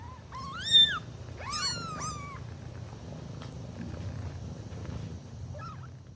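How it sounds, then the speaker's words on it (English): Several newborn kittens cry in high, rising and falling mews, a loud cluster early on and a few fainter calls later, over a low, soft background rumble. "Those cries belonged to 5 newborn kittens who knew exactly when their mother came back"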